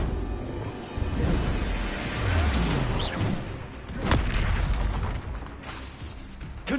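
A Bombarda spell explodes in Hogwarts Legacy, giving several moderately loud booming blasts and crashing bursts spread across the stretch, each with a sharp onset and rumbling decay.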